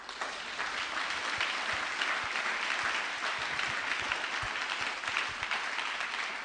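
A church congregation applauding, a dense, steady wash of many hands clapping together that continues at an even level throughout, with no pause.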